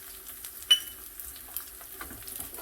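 Spices stirred into a sizzling pan, turmeric powder mixed in with a utensil over a steady fry, one sharp scrape or clink against the pan partway through, close and without talking.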